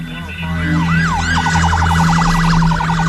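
An ambulance siren wails loudly and nearby, first sweeping slowly up and down, then shifting into a rapid warbling yelp over a steady engine drone.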